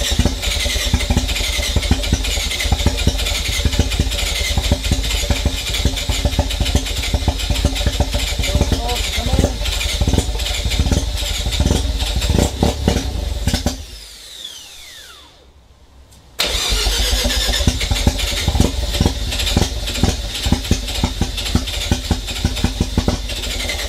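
A 1988 Mazda RX7 FC3S rotary engine with big turbo and Haltech Elite 1500 ECU running loud and close with a rough, pulsing idle, cutting out briefly before firing up again.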